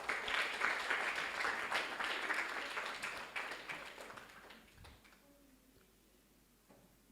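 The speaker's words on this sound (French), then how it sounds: "Applaudissez pour lui." An audience applauds a contestant at a French spelling competition, a brisk burst of clapping that tapers off after about four seconds into near quiet with a few scattered knocks.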